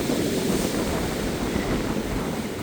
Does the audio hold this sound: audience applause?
no